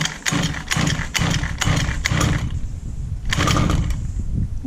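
Small petrol engine of a 1/5 scale RC buggy sputtering in short repeated bursts, as if catching and dying during start-up attempts, then a longer run near the end; close and fairly loud, no talking.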